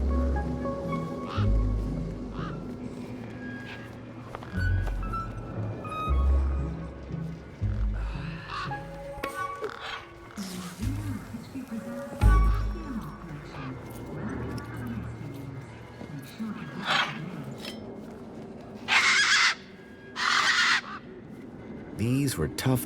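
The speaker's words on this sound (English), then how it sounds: "These were tough desert birds." Tough desert birds squawk and cry in the cyberpunk adventure game Beyond a Steel Sky, harsh calls scattered over a busy game soundscape of thuds and ambience, with a voice speaking at times.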